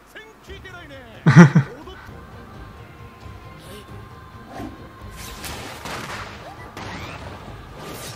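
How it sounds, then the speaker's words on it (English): Several anime explosions and bursts of gunfire from Demon Slayer go off at moderate distance, one sharp loud blast followed by scattered pops and whooshes, with voices talking. "The explosions are really good."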